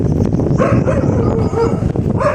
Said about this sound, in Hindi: देखो ये कुत्ते भौंक रहे हैं, सुबह इनका काम ही यही है।